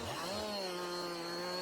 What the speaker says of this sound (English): Chainsaw, let's go.